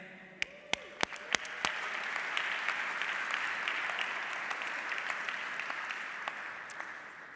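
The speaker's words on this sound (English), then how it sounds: "turn your entrepreneurship on with a big round of applause to get this party started" An audience at a regional startup and innovation event bursts into loud applause after a few sharp early claps, sustained steady clapping with occasional louder claps throughout.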